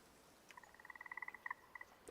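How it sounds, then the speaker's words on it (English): Frogs croak in the video game Way of the Hunter, a quiet, evenly paced series of short pulsing calls that swells and then trails off, set against a hushed background with no talk. "All I hear are frogs."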